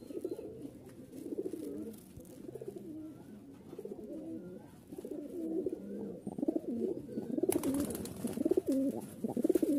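Rajshahi Giribaz pigeons, young colour-matched birds, coo in soft, repeated throaty phrases that carry on steadily throughout, close by, with some rustling and a brighter burst of noise near the end.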